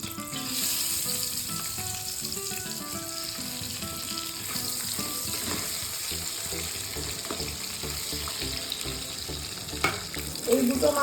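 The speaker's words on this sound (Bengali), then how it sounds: "আরো দুটো মাছ আমি ভেজে নিচ্ছি।" Pabda fish frying in hot oil in a pan, a steady dense sizzle running throughout at close range, with a brief louder clatter near the end.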